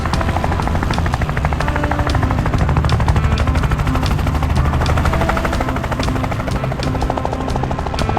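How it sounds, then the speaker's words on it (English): A helicopter arriving and hovering on a farm, a loud, continuous rapid rotor chop with a rough buzzing drone, steady and close for the whole stretch. "The helicopter quickly arrived and set the greenhouse perfectly into its place."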